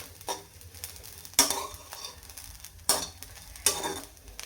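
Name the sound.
roasting cluster beans in a kadhai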